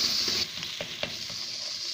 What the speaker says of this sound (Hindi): अब इसमें दूसरा मसाला डालेंगे। थोड़ी देर इसको भी भुनेंगे।